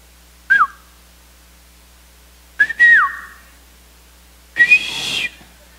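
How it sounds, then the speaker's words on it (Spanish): Three separate human whistles, each a quick rising-then-falling note, the last one longer and breathier, close by with silence between them. "No es muy fuerte el chiflido."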